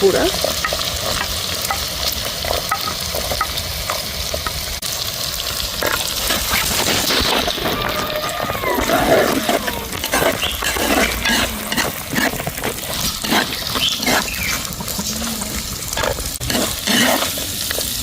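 Chopped onions fry in hot oil in a pan while a spoon stirs and scrapes them, giving a continuous sizzle broken by clinks and scraping strokes, close and without voices.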